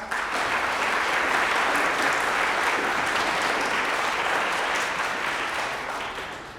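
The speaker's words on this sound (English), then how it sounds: "And can we give our advanced band also a round of applause?" Dense applause from a school spring concert audience for the advanced band, loud and continuous clapping from the whole room that holds steady and then begins to taper off near the end.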